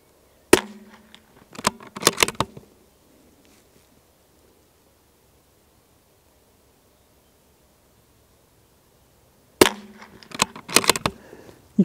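Bergara B14 HMR Carbon rifle in .22 LR fires supersonic rounds at a 100-metre range, giving sharp cracks in two close bursts of several shots each, separated by a long quiet gap.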